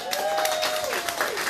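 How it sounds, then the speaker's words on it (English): An audience at a Women's March chapter launch applauds in a brief, dense patter of clapping, with a voice briefly audible above it. "please give her a round of applause again"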